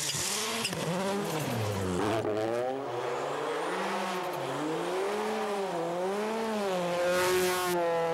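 A Skoda Fabia World Rally car drives at speed, its engine note sweeping up and down through gear changes and revs, loud and close, with a sharp burst at the start and no talk.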